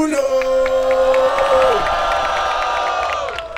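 A crowd at a rap battle in Cabo Frio, Brazil, cheers, whoops and shouts loudly, with a sustained whistle-like tone at first, then the noise thins and fades over a few seconds.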